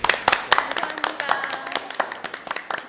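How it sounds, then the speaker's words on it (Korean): An audience clapping at a real estate auction seminar, distinct individual claps from a modest group in a quick uneven rhythm, close and fairly loud. "감독님한테 박수 한번"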